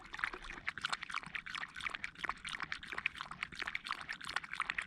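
Water poured outdoors for a dog in a forest camp, a soft close trickling and splashing that runs unbroken throughout, faint and unaccompanied by speech.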